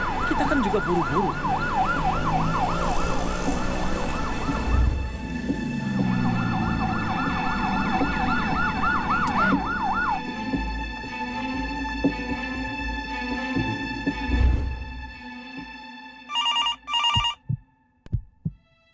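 An ambulance siren wails loudly in repeating up-and-down sweeps for about ten seconds, then fades out, followed by a few short bursts of telephone-like ringing and thumps near the end.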